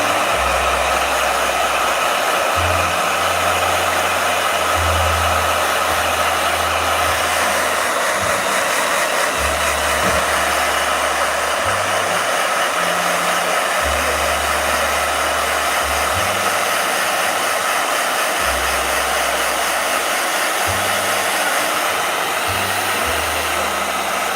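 A handheld blow dryer runs steadily and loudly up close for the whole stretch, a constant airy whoosh, with low thumps and small shifts in tone as it moves.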